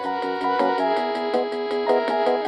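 Budget 1980s home computer plays a bright, buzzy chiptune-style melody with steady rhythmic pulses and harmonic chords, fairly loud and continuous with no voices.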